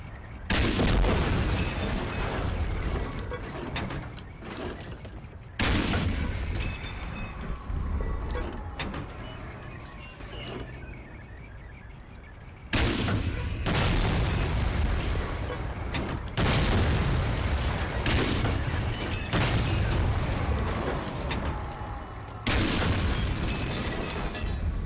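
Heavy booming cannon blasts of a German 88 gun firing at a tank in the World War II shooter Medal of Honor: Allied Assault Spearhead, repeated loud explosions roughly every few seconds over a constant rumble of battle noise.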